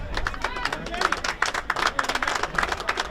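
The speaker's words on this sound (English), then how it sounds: "to a big round of applause from the Medway fans for a job well done" Medway fans applauding at a boys' varsity high school soccer game, a short stretch of crowd clapping and cheering mixed with general crowd noise.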